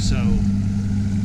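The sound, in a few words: fishing boat idling out on a lake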